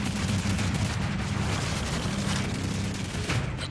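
Dense, continuous gunfire from Modern Warfare 3 Survival Mode, with weapons firing at airplanes in a sustained, rumbling clatter that holds at a steady loudness with no pauses.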